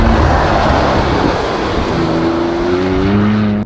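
A Porsche Cayenne GTS with a 440 hp V6 engine driven hard, its engine sound loud and close throughout with a rising, revving tone near the end and no talking.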